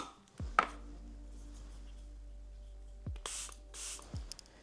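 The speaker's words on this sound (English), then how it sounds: "I am going to spray down my brush" Setting spray spritzed onto a makeup brush: a few short, soft hissing bursts near the end, after some light taps and clicks, close up and quiet against a faint background hum.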